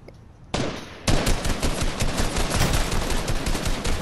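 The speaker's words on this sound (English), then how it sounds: "they're shooting at me" Rapid enemy gunfire in Fortnite bursts in at about half a second and keeps hammering loud and close as a dense, continuous volley through to the end, with no talking over it.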